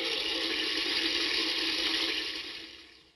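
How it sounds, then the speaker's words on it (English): Otohime electronic toilet device playing a simulated flushing sound, a steady rushing hiss of running water that holds level, then tapers off toward the end. "we developed otohime, a device which generates the sound of a toilet flushing for 25 seconds"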